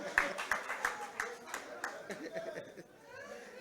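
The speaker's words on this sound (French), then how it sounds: "Ah, c'est les hommes qui applaudissent" Men applauding amid a lively crowd, a run of sharp claps in the first two seconds over steady chatter and background voices, fading into murmuring talk.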